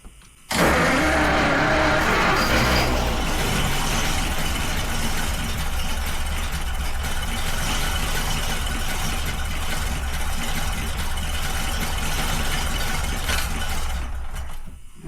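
A 100-year-old moonshiner's car, parked for 55 years, idles steadily up close with a loud, continuous engine rumble that holds from start to finish without clear revving.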